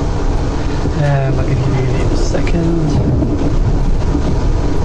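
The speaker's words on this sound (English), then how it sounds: "Southwest Trains Class 455." A South West Trains Class 455 electric train passes close by, a steady rumble with a rising and falling motor whine and squeal, while someone speaks briefly over it.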